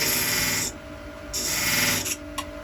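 A wood-turning tool scrapes and rasps against a spinning wooden ring on a lathe, cutting a small ledge in short, loud bursts broken by brief pauses.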